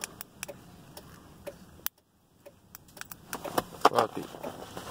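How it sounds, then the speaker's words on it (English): A Ford Crown Victoria with a weak battery clicks as someone tries to start it, giving a quiet run of irregular dry ticks with a short silent gap, then quicker clicks at close range. "And it's clicking sound."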